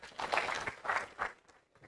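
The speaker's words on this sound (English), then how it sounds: "So big applause to them." An audience at a rural roads anniversary celebration session gives brief, faint applause in a few quick bursts that fade out within two seconds.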